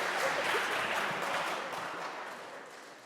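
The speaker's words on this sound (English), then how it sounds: "Can we give them a massive round of applause, please?" Applause from an event audience for a finalist team leaving the stage, a dense, fairly faint wash of clapping that slowly fades over a few seconds.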